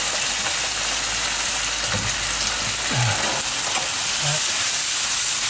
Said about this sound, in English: So now we've gone from stir frying to stir boiling.